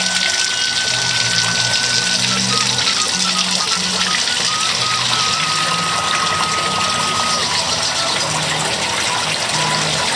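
Water rushes steadily from an FRP water filter tank switched to backwash after a year of use, a constant loud hiss and gush with a low pump-like hum underneath and no voices.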